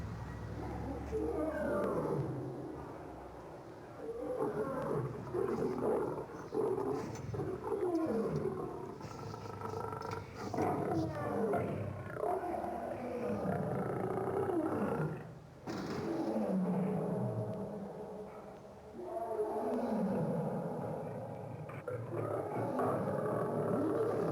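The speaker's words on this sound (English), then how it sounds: "you can hear their roars echo throughout the zoo" Big cats roar repeatedly at a zoo in San Diego, deep rumbling calls rising and fading in long bursts with a reverberant, echoing quality, loud and continuous across the scene.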